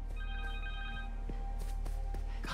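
A cell phone rings in the video game Spider-Man 2, a steady electronic ringtone with sustained tones over low background hum, followed by a few soft clicks, heard alone without speech.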